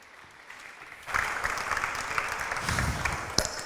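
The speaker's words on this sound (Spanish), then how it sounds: "Un aplauso" Audience applause for panel guests at a sports session in Spain, including the Spanish women's national team coach, swelling from quiet to a steady, dense round of clapping after about a second.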